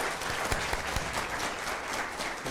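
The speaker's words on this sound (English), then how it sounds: "I think we can applaud her for coming here." An audience at an international youth conference applauds a departing minister, brisk close clapping with a few sharp individual claps standing out, steady throughout the short burst.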